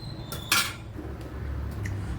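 Ladle clinking against a pot as it scoops kozhukattai dumplings out of simmering milk, a sharp metallic scrape and clatter, then quiet bubbling.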